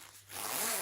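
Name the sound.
zipping an extension panel onto a maternity coat zip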